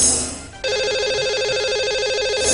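A telephone rings on a Hindi radio show as a call to a lucky caller is placed. After a brief pause, a steady electronic ringing tone starts and holds for about two seconds, alone with no talk.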